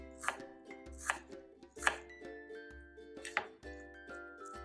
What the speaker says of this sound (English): And then we'll cut them into tiny little cubes.